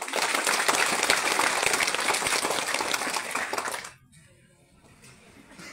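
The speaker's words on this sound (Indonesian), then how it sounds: "Tepuk tangan." A crowd at a regional hospital inauguration claps loudly and densely for close to four seconds before the applause drops away, leaving low room noise and a hint of a voice.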